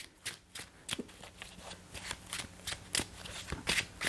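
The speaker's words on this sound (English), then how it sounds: "just shuffle my deck real quick" A deck of game cards is shuffled by hand at a table: a quick run of crisp riffling and snapping card sounds, close and fairly quiet, repeating in irregular bursts with no talk.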